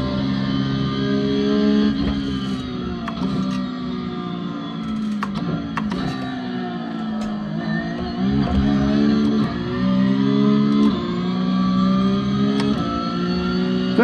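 A Porsche GT4 is driven hard around the Nürburgring on a slippery surface, its engine note steady and close with rising and falling revs through the lap, alone with no talk.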